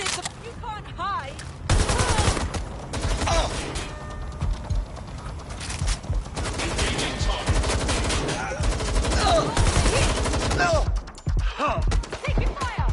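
Heavy gunfire in Watch Dogs: Legion, a shootout in London, with rapid automatic bursts and single shots crackling loud and close across a long stretch, mixed with shouted voices and mechanical clatter.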